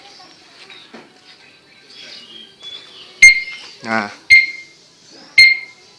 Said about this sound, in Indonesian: Ini alarmnya seperti ini. Nah, hampir seperti alarm mobil,